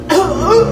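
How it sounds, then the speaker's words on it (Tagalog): An elderly person, 75 years old, coughs once in a short, fairly loud, close burst of voiced, throaty hacking that trails off like a chuckle. "Oh, ayan na. Inuubo na."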